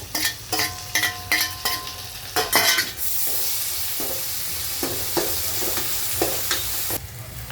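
Finely chopped tomato hits a hot pan and fries with a steady, close sizzle, while a spoon scrapes and stirs in a series of sharp strokes early on.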